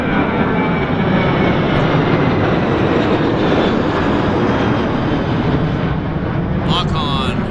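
A WestJet jet airliner takes off at Vancouver Airport, a loud, broad roar of jet engines filling the whole stretch with steady rushing noise, with a brief clatter near the end.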